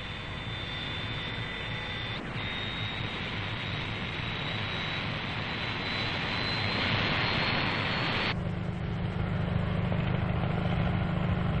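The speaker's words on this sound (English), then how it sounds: "Quickly, the takeoffs get underway" Military jet aircraft taking off at RAAF Base Butterworth: a loud, sustained roar of jet engines that swells steadily, with a high whine, then shifts abruptly in tone as the aircraft gets away. No voices.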